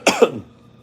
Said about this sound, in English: I'm sorry for the coughing, but that's life.